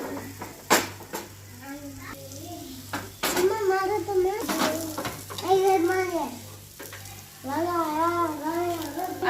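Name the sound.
moong dal pudla cooking in oil on a pan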